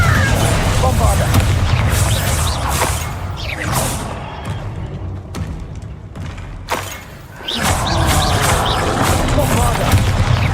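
Bombarda explosion spells go off in Hogwarts Legacy as heavy booming blasts with crashing debris, amid continuous combat noise and a voice speaking over it.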